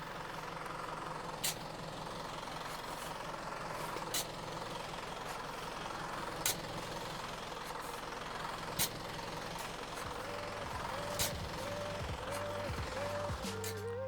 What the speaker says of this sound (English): When the truck finally let out all of the material, we got to work.